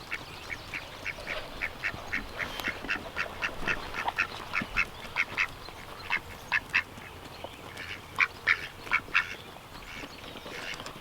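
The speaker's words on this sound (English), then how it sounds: "Where are the two ducks?" Ducks on a homestead quack in steady, rhythmic runs of short calls, fairly close and loud over an outdoor background.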